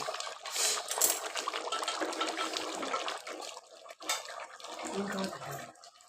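Water pours and splashes into a metal pot for several seconds, quiet and close, briefly pausing before a second pour with a faint voice.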